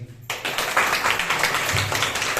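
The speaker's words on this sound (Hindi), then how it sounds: "ताली बजाओ जी" A worship congregation breaks into applause, many hands clapping in a dense, loud, continuous patter that starts abruptly after a brief moment of near-silence.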